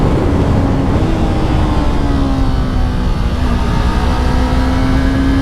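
A motorcycle engine pulls hard under acceleration in fourth gear on an uphill road, a loud, steady, close-up drone with a rising tone throughout and no voices.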